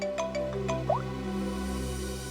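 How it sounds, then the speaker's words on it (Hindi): A short electronic phone ringtone: a few bright, evenly spaced beeping tones, then a rising chirp, over a steady low hum. "डीसीपी चित्रो ने मुझे क्यों फोन करा?"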